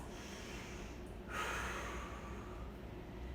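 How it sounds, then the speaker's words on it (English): Soft, close breathing during a child's pose stretch, with a steady low hush and one deeper breath swelling about halfway through. "take a couple deep breaths"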